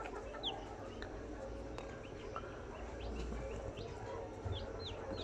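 Newly hatched poultry chicks on a poultry farm give high, thin chirps that come in scattered bursts over a steady low background hum, with no talking.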